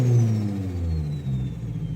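A Subaru BRZ / Toyota GR86 sports car accelerates, its engine note climbing loud and close in a short, smooth rising pull over a deep rumble.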